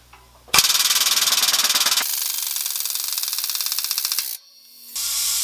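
An air-powered press pushes a bearing onto a Ford 9-inch ring and pinion, with a loud steady pneumatic rattle that runs for about four seconds and then cuts off abruptly, followed by a softer hiss of air.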